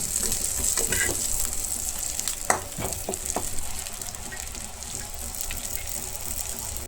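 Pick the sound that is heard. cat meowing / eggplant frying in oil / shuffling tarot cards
eggplant frying in oil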